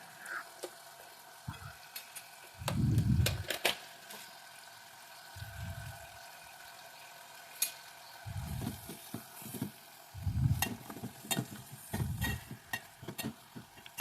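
Tomatoes, onions and curry leaves fry in hot tempering oil for an eggplant curry, giving a steady close sizzle with several louder bursts and scraping stirs.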